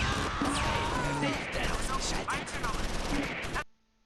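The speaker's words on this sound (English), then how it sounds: "So many bullets flying down range." Gunfire in Close Combat IV, a World War II tactical game: rapid, overlapping shots and machine-gun bursts rattle continuously at close range with a voice speaking over them, then cut off abruptly into near silence.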